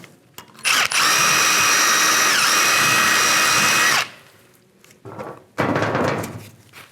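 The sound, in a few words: cleaning rusty brake caliper guide holes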